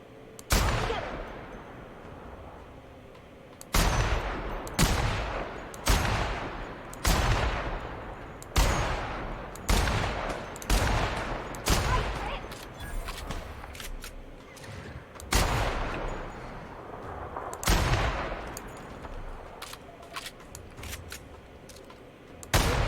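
A new gun in the video game The Outer Worlds fires in repeated loud bursts of rapid shots with short gaps between them, sustained over the whole stretch with booming tails.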